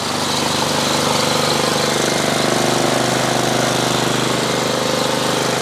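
A steady, loud engine drone from an Ariens 11528 snow blower with power steering, running continuously up close without change in pace, with no talking.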